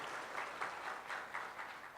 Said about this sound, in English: I would love to ask you to give a round of applause